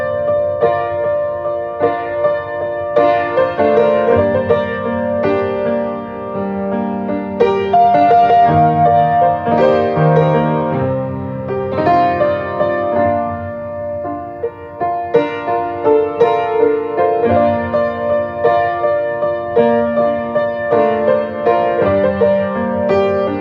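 Solo piano plays the intro of a song, left-hand bass notes under sustained chords and a melody, steady and close for the whole stretch with no voices.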